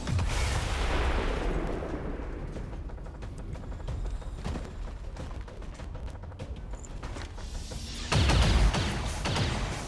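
Heavy gunfire in the turn-based strategy game XCOM 2, a dense sustained barrage of rattling shots and impacts that eases midway and then swells into a louder burst near the end, no voices.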